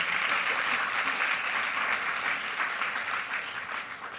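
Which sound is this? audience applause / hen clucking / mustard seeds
audience applause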